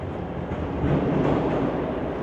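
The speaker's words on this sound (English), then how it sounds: "here comes a train already" A subway train rumbles into an island platform station, a steady low roar building slightly and holding, with no voices over it.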